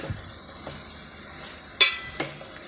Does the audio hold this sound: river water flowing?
no